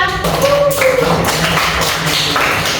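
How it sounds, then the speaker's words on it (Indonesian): A classroom group applauds another group after its presentation, a dense, continuous patter of many hands clapping close by for a few seconds, with a voice briefly audible under it. "Beri tepuk tangan untuk kelompok 4."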